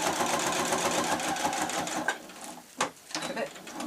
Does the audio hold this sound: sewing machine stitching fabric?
yes